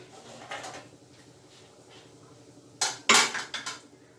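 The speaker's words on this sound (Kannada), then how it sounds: "ಕುಕ್ಕರ್ ಓಪನ್ ಮಾಡ್ತಿದ್ದೀನಿ." A pressure cooker of capsicum rice is opened after its steam is released: soft metallic handling, then a couple of sharp lid clanks and rattles up close, with no voices.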